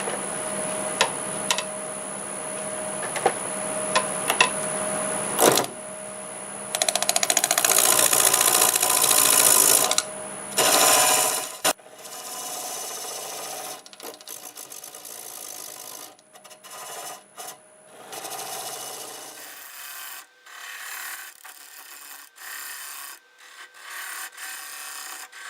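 A 1/2 inch bowl gouge cuts a wooden cube spinning on a lathe at 870 RPM, giving bursts of harsh, rasping scraping that stop and start, with quieter tapping and shuffling between cuts.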